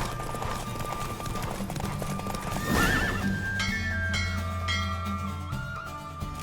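A horse gallops and neighs in The Witcher 3, hooves pounding under music before a loud whinny rises near the middle, then the gallop eases as tones continue.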